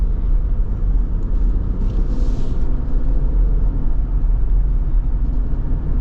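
A 2025 AEV Wrangler JL370 being driven, with a steady, loud low rumble of engine and road noise that holds constant throughout and carries no talk.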